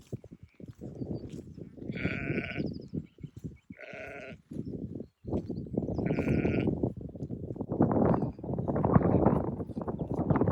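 Several sheep bleat nearby, three distinct calls in the first part, with a steady rustling, shuffling outdoor background rising toward the end.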